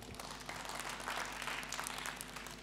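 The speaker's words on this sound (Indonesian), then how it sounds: "beri tepuk tangan kepada Tuhan" A congregation claps during a church service, a faint, steady wash of applause lasting a few seconds.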